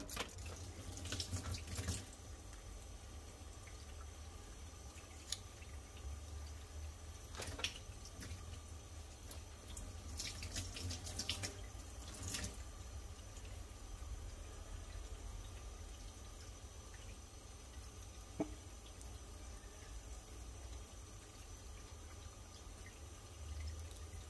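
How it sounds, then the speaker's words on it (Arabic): Cold tap water runs steadily from a kitchen faucet while fresh sardines are rinsed and cleaned, a continuous close rushing with occasional clinks and splashes and no talking. "غنطلق الماء غير بشويه، الماء بارد ماشي سخون، وغنبدا نقي فيه دابا هكا لتحت"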